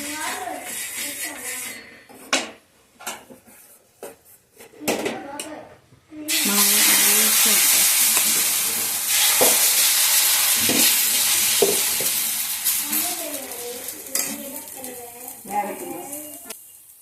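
Adai, a spicy lentil dosa, sizzles on an oiled hot griddle. After a few spoken remarks and clatters, a loud, steady, close sizzle holds for about ten seconds, then fades as a voice returns.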